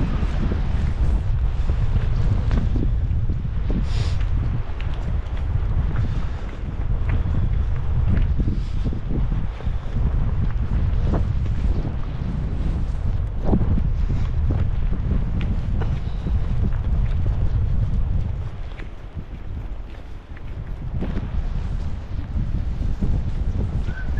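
Strong wind roars continuously across the microphone beside Ennerdale Water in the Lake District, a loud, buffeting blast that barely lets up, dipping only briefly before surging back.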